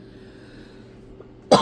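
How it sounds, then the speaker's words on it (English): A single sharp cough from a woman with a sinus illness, loud and close, bursting out suddenly after a quiet stretch of low room hum. "I'm sorry for coughing in your ear."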